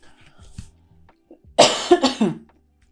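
Several harsh, close coughs in quick succession, loud and dry, following a few faint clicks and rustles.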